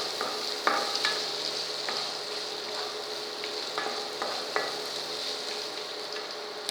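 Roasted peanuts and cashews being stirred into poha in a hot pan, a continuous soft frying sizzle with scattered clicks and scrapes of a spoon against the pan, close and quiet, no talking.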